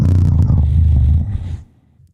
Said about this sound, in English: your stomach sounds like this.